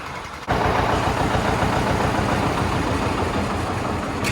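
A John Deere tractor engine starts running and then holds a steady, loud, low rumble close by. It has a rough, even chug that carries on with no voices.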